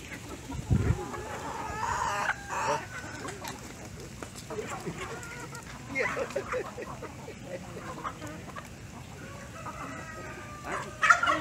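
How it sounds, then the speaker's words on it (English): Hens cluck and murmur nearby in short scattered bursts, with a person talking at times over a low outdoor background. "I hear chickens. There's chickens, live chickens."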